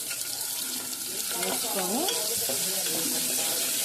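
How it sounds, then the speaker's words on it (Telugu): Ginger paste frying in a pan for a Muslim-style sambar, sizzling loud and steady up close, with stirring scrapes picking up halfway through and no voices. "వేగాక అందులో కొద్దిగా అల్లం పేస్ట్"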